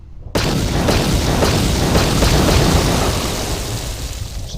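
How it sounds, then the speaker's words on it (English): A loud, sudden boom erupts after a brief quiet moment, followed by a sustained rumbling roar of high explosives in a video game, slowly fading. "Some big explosions."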